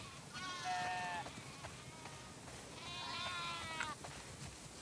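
Sheep in The Last of Us Part II bleat twice, each a wavering drawn-out call about a second long, clear over quiet farm ambience with faint movement.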